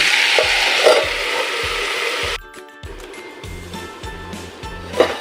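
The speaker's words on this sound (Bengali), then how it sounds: "আলু দিয়ে খুব ভালোভাবে নাড়িয়ে দিয়েছি" Potatoes and drumstick flowers are stirred in a hot pan: a loud, bright sizzle for a couple of seconds, then a quieter stretch of scraping and knocking stirring sounds.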